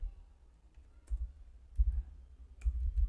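A computer keyboard is typed on in a few sparse, soft clicks and short bursts with quiet gaps between them, close up and without talk.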